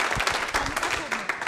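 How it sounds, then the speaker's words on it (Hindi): Audience applause for a contestant at a nursing college quiz show, dense clapping from a crowd with voices mixed in underneath, steady and fairly loud across the short stretch. "तालियां जोरों से बजाइए इनके लिए"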